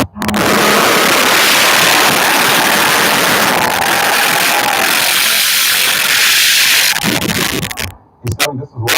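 An Alfa Romeo GTV6 V6 engine runs loud and close, a continuous rumble that cuts out near the end, with people talking over it.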